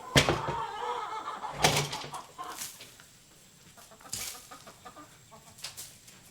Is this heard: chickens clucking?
yes